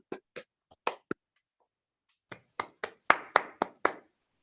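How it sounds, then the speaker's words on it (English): Sparse, scattered hand claps from a few online audience members after an academic talk, irregular single claps, then a short burst of quicker clapping near the end, with silence between. "Can we all unmute ourselves and give the speaker a round of applause?"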